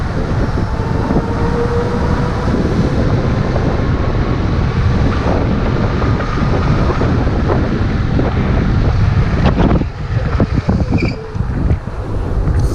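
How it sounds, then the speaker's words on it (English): Heavy wind buffets the microphone while riding a Kaabo Mantis 8 electric scooter in cold weather, a loud, continuous roaring rush that barely changes throughout. "So much wind,"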